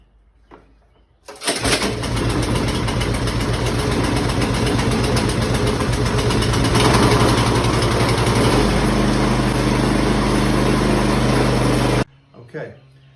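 A snowblower engine pulls into life after a short start, then runs loud and steady at a constant idle close by before cutting off abruptly.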